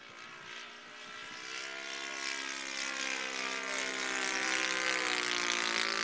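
A propeller plane, an F4U-1D Corsair in a video game, drones overhead on a low pass, its engine tone rising and shifting in pitch as it approaches and grows steadily louder.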